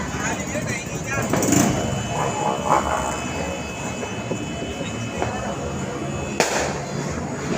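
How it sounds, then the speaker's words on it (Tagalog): Sharp firecracker pops and bangs go off irregularly amid a noisy New Year's crowd, with people talking and cheering throughout. "Bilis naman naubos ang kay Edwin paputok."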